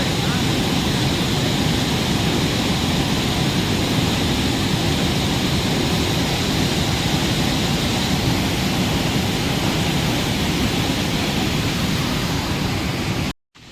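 Water roars at high speed through a just-opened gate of the Sagada barrage dam, a loud, steady, broadband rush that continues without a break for the whole stretch before cutting off abruptly at the very end.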